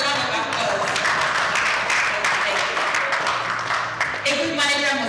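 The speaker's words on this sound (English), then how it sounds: "Please give women a round of applause." An audience at a live conference event applauds, dense clapping filling the clip from start to finish, loud and close, with no speech over it.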